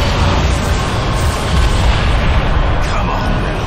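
Ship's forward cannons firing in the shooter Bulletstorm, a loud sustained roar of booming blasts and rumble filling the whole moment, with voices in the mix.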